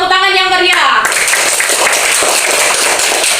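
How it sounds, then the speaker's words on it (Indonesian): A classroom of students claps hands loudly together after a classmate finishes. A brief tonal sound gives way to a dense, sustained wash of clapping that stays close and full throughout. "Ya, tepuk tangan yang meriah"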